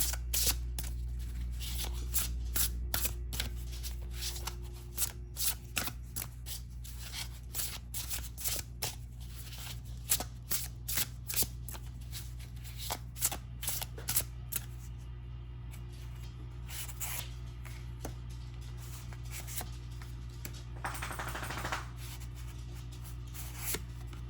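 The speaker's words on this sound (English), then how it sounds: "Let's draw some more cards, some tarot cards, so we can get some more information." Tarot cards are shuffled by hand in quick repeated riffles and slaps, a busy run of sharp papery flicks close up, with a few brief pauses and no talking.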